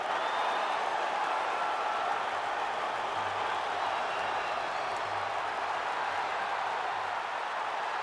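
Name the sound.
arena crowd cheering in UFC 5 video game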